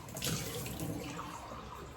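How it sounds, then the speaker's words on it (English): About a cup of water splashes and pours steadily into a cooking pot of simmering greens, close and continuous for a couple of seconds with no talk. "So I'm getting like a cup of water, and I'm adding that to the top."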